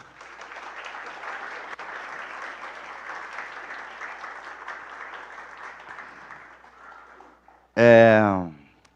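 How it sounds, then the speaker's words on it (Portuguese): A church congregation at a service applauds for several seconds, a soft, even patter of clapping that fades out before a loud voice speaks briefly at the end. "queria que vocês recebessem com uma salva de palmas Gustavo e Gisele"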